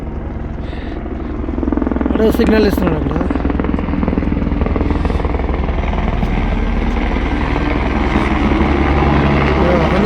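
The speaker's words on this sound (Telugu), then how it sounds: "ఇక్కడ ల్యాండింగ్ ఒకటి హెలికాప్టర్ వస్తుంది చూడండి" A helicopter landing at the Kedarnath helipad, its rotor and engine a loud, close, steady roar that swells after a quieter start, with someone talking over it.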